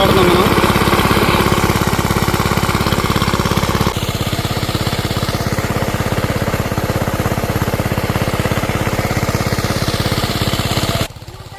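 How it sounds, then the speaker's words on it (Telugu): A motor pump engine pumps water out of a canal: a loud, steady, chugging drone runs throughout, dips slightly partway through and cuts off just before the end. "ఇప్పుడు ఇంజిన్ ఆపాము"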